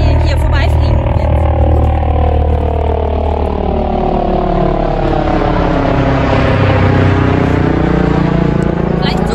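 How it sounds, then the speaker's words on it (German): A helicopter passing overhead outdoors, its loud rotor drone rising and sweeping through a broad pitch shift as it goes by, with a low steady throb throughout. "Wir machen kurz noch die Hubschrauberpause, okay?"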